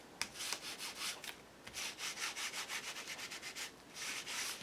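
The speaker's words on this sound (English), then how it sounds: "I'm going to put some Black Stays On ink on it by just rubbing on the embossed area" Black ink is rubbed by hand onto an embossed brown paper bag, a soft rhythmic series of close, faint brushing strokes with short pauses between them.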